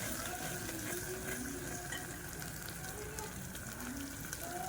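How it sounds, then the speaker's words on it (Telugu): Ginger garlic paste frying in a pan for a crab curry, a steady close sizzle with a watery hiss throughout, no voices. "అల్లం వెల్లుల్లి పేస్ట్ పచ్చివాసన పోయేదాకా బాగా ఫ్రై చేయండి."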